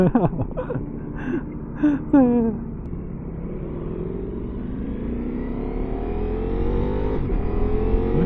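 A vehicle with a quick shifter accelerates hard, its engine note rising steadily in pitch and loudness over several seconds after a few quick revving changes, heard from inside or close by while voices briefly speak.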